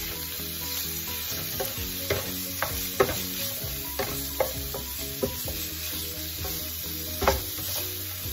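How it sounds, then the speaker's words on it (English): Ginger and shrimp fry in a pan with a continuous close sizzle, punctuated by occasional sharp clicks of a utensil stirring, over a steady low tonal background. "I can smell this ginger cooking with these shrimp"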